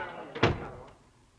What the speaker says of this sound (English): Close the door, MacDonald.